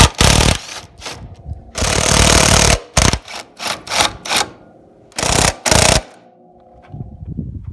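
Sharp, loud bursts of a power tool with a 13mm socket spinning off the front strut nuts on a Volvo XC70, several quick rattling runs broken by short pauses.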